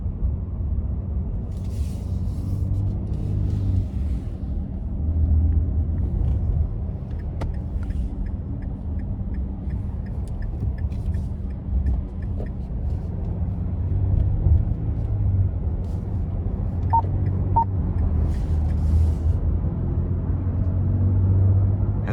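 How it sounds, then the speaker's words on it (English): Inside a 2024 Nissan Frontier Crew Cab SV Hardbody accelerating onto an interstate, a steady low engine and road rumble drones throughout with faint ticking from the cabin, no voices. "now we're gonna give it some throttle getting on the interstate here"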